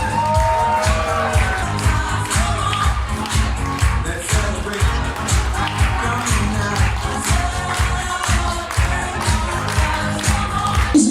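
Wedding reception guests cheer loudly for the best man and matron of honour, a continuous full-room roar of voices and whoops that holds steady throughout.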